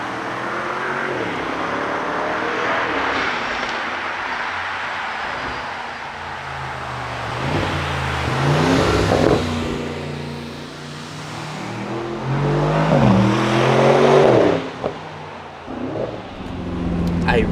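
An Aston Martin Vantage Roadster driven on tight Black Forest roads, its engine droning and rising through gears with swelling revs, heard from inside the car while people talk over it.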